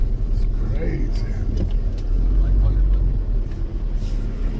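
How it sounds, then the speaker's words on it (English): Heavy road traffic near a rock wall at the entrance to Zion National Park, a steady broadband rumble of cars and engines rolling past throughout, with people talking over it. "But is it worth all this traffic?"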